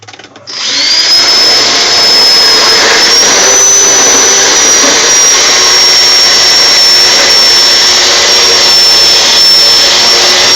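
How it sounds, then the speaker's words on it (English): A power drill bores out spot welds in a car floor panel during a patch repair, letting out a loud, steady high whine that starts abruptly and holds with slight pitch shifts throughout. "Time to drill out the spot welds."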